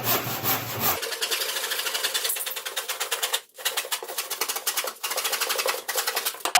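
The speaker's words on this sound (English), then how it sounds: "So I'm going to go ahead and cut the top off." A crosscut saw cutting through a DRICore panel of OSB, foam and drywall, with rapid, rhythmic rasping strokes close up and two brief pauses, loud and steady, with no talking.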